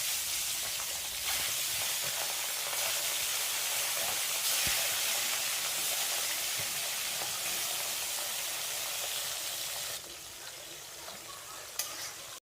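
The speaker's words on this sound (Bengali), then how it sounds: "একে একে ট্যাংরা মাছগুলো ছেড়ে দেবো। একবারে যদি ভেজে ওঠাতে না পারি" Tangra fish frying in well-heated oil, a dense continuous hiss and sizzle that holds steady for most of the stretch, then drops quieter near the end with a brief clink, no talking.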